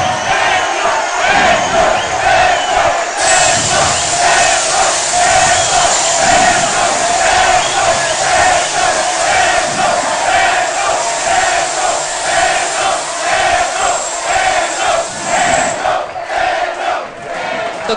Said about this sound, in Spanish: quiero que recibamos con un fuerte aplauso al candidato Gustavo Petro del Polo Democrático Alternativo.